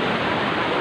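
Bunsuran Falls in Barangay Calawis, Antipolo, a mountain waterfall pouring in a loud, steady, dense rush with no break and no voices.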